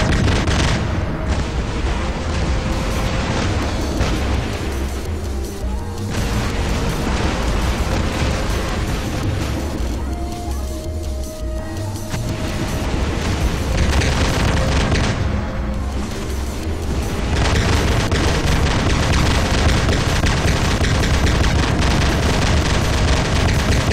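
Heavy sniping fire from giant robots in Walking War Robots, a dense, loud run of booming shots and blasts over a constant roar, with brief dips before the barrage swells again.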